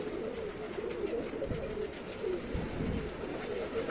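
Pigeons in a loft cooing softly and repeatedly, low rolling calls layered over a steady background of wing and cage noise, close by with no talking.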